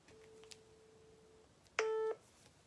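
A telephone call goes out to a radio show's first guest: a faint, long electronic tone, a brief pause, then a louder, short, buzzy ring tone.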